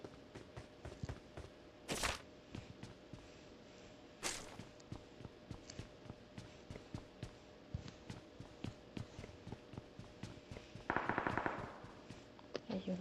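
Video game PUBG Mobile gunfire rattles in rapid, repeated bursts of shots mixed with footsteps, mostly mid-distance and moderately loud, with a couple of louder close blasts and brief talk nearby.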